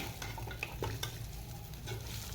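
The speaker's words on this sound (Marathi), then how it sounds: "भाज्या पण अशा छान परतून घ्यायच्या" Vegetables sautéing in a pan for a home dinner, a continuous close sizzle with a few light scrapes and taps of a spoon as they are stirred, no talking.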